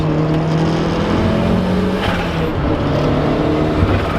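A car accelerates hard with its rear end kicking out and the back wheels spinning on a wet road, giving a loud, close, continuous engine roar with tire noise and no talk.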